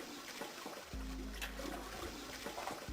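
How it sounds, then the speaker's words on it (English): In the video game 999: Nine Hours, Nine Persons, Nine Doors, a toilet flushes with a loud rushing gurgle of water that starts abruptly and keeps draining steadily to the end. "I heard a loud flushing noise."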